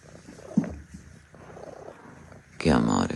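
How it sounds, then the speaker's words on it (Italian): A young cat with breathing trouble purring softly up close, a low rough rumble mixed with handling noise and a brief louder burst near the end, while a person talks over it. "Senti che fusa."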